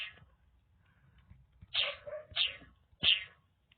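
A dog in the Roblox Paracord Obby game barks three times in sharp, spaced yelps, close and moderately loud against a quiet low rumble, with a faint yip at the start.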